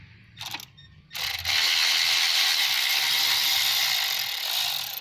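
A hand ratchet turns a Torx 30 bit to back out a screw on a Mercedes ML W163 coil pack. A few quick clicks come first, then a long, close, continuous rapid clicking whir.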